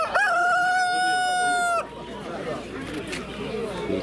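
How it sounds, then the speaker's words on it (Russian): A rooster crows loudly once at a bird market, a long drawn-out call lasting under two seconds, followed by quieter farmyard background noise. "Так, куры."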